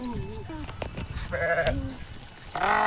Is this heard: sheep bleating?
yes